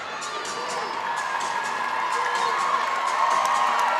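A gymnastics arena crowd at a college meet, Michigan at Ohio State, cheers and whoops steadily after a routine, a dense, sustained roar of many voices with scattered shouts.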